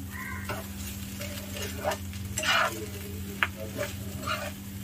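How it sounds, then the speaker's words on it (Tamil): Semiya upma being stirred and mixed in a pan at home, soft intermittent scraping and light sizzle over a low steady hum, fairly quiet with a few sharper knocks. "எடுத்து நம்ம நல்லா மிக்ஸ் பண்ணிக்கலாம்"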